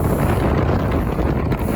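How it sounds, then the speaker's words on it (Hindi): Strong wind blasts across an open bridge construction site at Rathoa Haryam in Mirpur, a loud, constant buffeting roar battering the microphone throughout. "इतनी तेज़ हवा"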